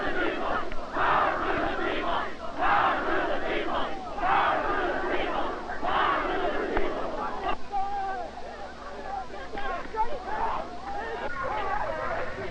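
An angry crowd of demonstrators shouts and chants in surges, loud massed voices rising and falling in waves that blend into restless babble, with occasional single calls standing out near the end.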